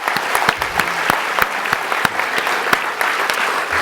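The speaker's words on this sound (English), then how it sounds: "So will you please join me in giving another round of applause to the students, to Michal, and to the faculty here." A conference audience claps for students and faculty, a loud, steady burst of many hands clapping with sharp individual claps standing out across the whole stretch.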